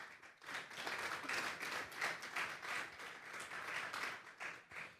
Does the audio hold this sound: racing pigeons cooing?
no